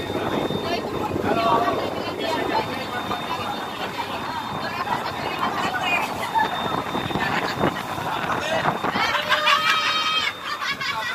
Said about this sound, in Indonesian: Kuat angin nih.